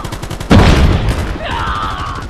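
A grenade explodes in Call of Duty Mobile with a sudden heavy boom, followed by a rumbling tail and scattered gunfire, over constant in-game background noise.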